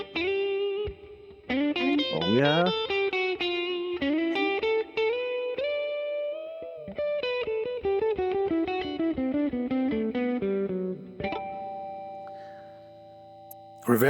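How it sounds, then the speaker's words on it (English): Electric guitar through a Line 6 POD HD500X reverb effect plays melodic notes and bends with a lingering reverb tail, soaked in effect; a voice briefly speaks over it. "Bring that in, and that gives a nice little bit of reverb."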